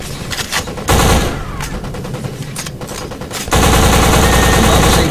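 Loud, sustained machine gun fire from the shooter game Black, rapid bursts with a brief lull before a denser, heavier barrage of continuous automatic shots.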